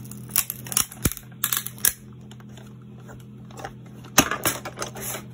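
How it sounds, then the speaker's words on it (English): Sheet of acetate being cut with a precision cutting plate on a craft machine, heard as a handful of sharp clicks and crunchy snaps in short bursts separated by quiet stretches. "Now it's the acetate cutting like butter with a precision plate."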